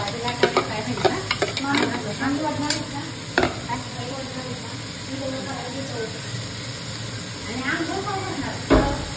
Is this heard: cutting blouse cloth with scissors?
no